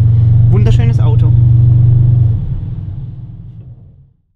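A deep, loud exhaust rumble from an Audi RS6 with a Milltek exhaust system, briefly revving mid-clip, then easing down and fading out near the end.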